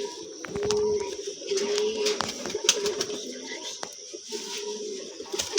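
Two pigeons cooing close by in soft, repeated low calls, with a voice talking over them throughout.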